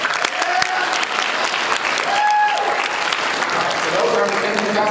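Loud sustained audience applause at a game-show semifinal, dense clapping throughout with a few whoops and voices rising over it, close and continuous.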